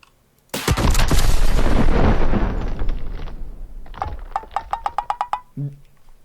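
Gunfire in the horror game Backrooms Break, a loud sustained burst of rapid shots that trails off, followed by a run of sharp single shots in quick succession, with no talking.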